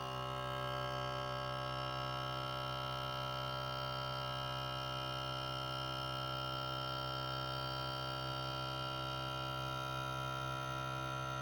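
A vacuum sealer pulls vacuum on a bag of store-bought riced cauliflower, giving a steady, unbroken motor hum with layered tones that stays even and close throughout, with no talking.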